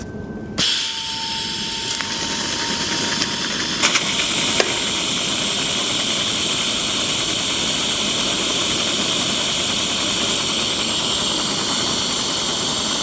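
A Miller Multimatic 215 pulse TIG welds after a lift arc start, a steady loud hissing buzz that kicks in abruptly and holds constant, with a few faint clicks early on.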